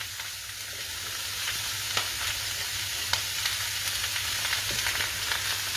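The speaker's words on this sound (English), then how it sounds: "I'll just saute this off" Butternut squash sizzles steadily as it sautés in a pan, a constant close frying hiss with occasional light clicks from stirring.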